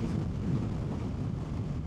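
Strong wind buffets the microphone in a steady, low roaring rush with no other sounds, on a motorcycle ride in Hungary.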